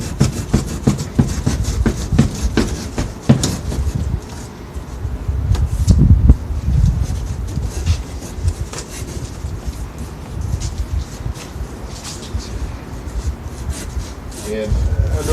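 A small pocket knife cuts through a double-wall corrugated cardboard box. Close, rough rasping and tearing strokes come in uneven bursts throughout.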